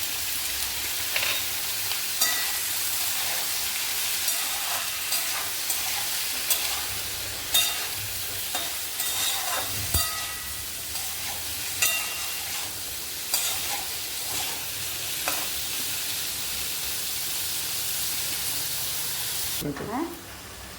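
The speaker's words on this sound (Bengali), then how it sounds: "এই যে এটা কুমড়োটাও ভাজা হয়ে গেছে" Pumpkin fries in hot oil in a pan, giving a steady loud sizzle, while a spatula stirs it in repeated scraping strokes throughout.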